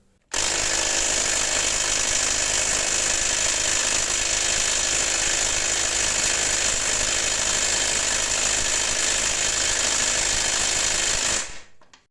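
Parkside cordless impact wrench hammering continuously on a stuck bolt that won't loosen, a loud harsh rattling buzz sustained for about eleven seconds, close, starting and stopping abruptly.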